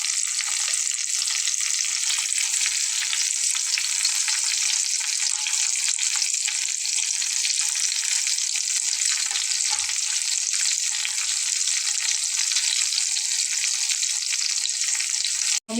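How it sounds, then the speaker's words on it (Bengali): Pieces of brinjal and potato fry in oil with a loud, steady sizzle that runs unbroken for the whole stretch and ends in a brief clunk. No one speaks. "বেগুনটাকে একটু ভেজে নেব আর সঙ্গে আলুগুলো দেবো।"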